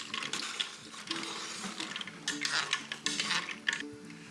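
Pasta stirred into stock in a pot: a close, steady clatter of scraping and knocking against the pot, carrying a faint tonal hum throughout, with no talking.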